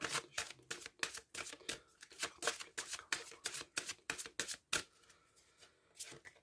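Tarot cards being shuffled by hand, a fast run of crisp papery riffles and flicks that stops and then gives way to a few separate card slaps, close to the ear, with faint speech now and then.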